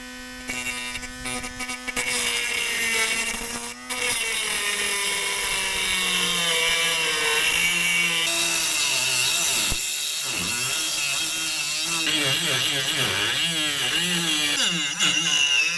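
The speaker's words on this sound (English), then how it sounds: "Slow and steady, I've learned, chopping stainless steel" A power tool slowly chops through stainless steel screws while a new skeg is fitted to a Mirror dinghy, giving a loud, sustained whine whose pitch shifts and wavers as the cut proceeds, with no talking.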